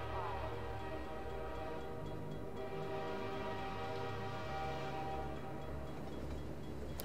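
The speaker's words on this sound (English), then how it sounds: "Oh, there's the train." A train arriving in Half-Life 2, a steady, loud rumble with sustained tonal hum and a faint horn-like tone running continuously throughout, with voice-like sounds mixed in.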